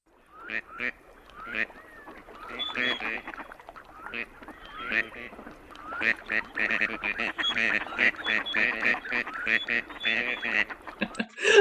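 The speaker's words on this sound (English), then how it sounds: "I think that's one of the best duck noises." Ducks in a marsh give rapid, clipped bep-bep-bep calls that build into a busy overlapping chorus of quacks and honks, growing louder toward the end.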